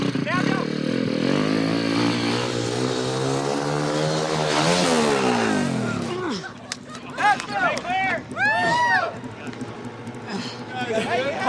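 A motorcycle ridden by a novice revs loudly, its engine pitch climbing then dropping over several seconds, before it fades into a quieter drone as people start talking over it.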